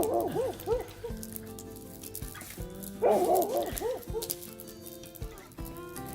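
A dog barks hoarsely outdoors on land being cleared, with a few short bursts of barking that sound strained, as if the dog is gasping for breath between them, over a background hum.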